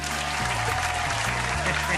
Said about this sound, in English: I hear fake applause